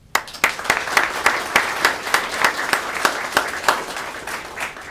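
An audience at an Australian Honours investiture ceremony applauds to welcome the official guests, with sustained clapping that holds at an even level and fades slightly at the end.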